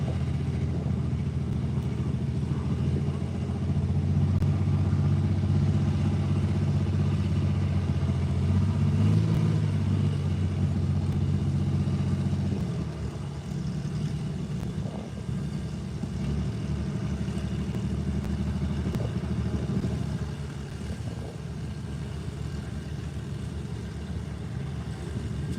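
Antique tractor engine at a 4,500 stock class pull, a steady loud mid-pitched drone that runs heavier for the first half, then eases into a lower, continuous rumble.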